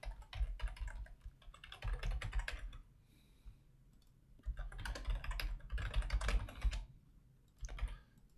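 Bursts of rapid keystrokes on a computer keyboard while an email is typed, close and clicky, broken by a short pause and a quieter final flurry, with no voice.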